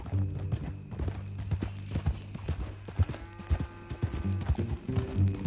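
Steady clip-clop of horse hooves at a walking pace in Red Dead Redemption 2, close and rhythmic, over a low droning background.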